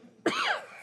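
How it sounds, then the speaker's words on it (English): A single short, sharp cough from a person at an indoor board meeting, close and fairly loud, with nobody talking. "we're all coughing and sneezing"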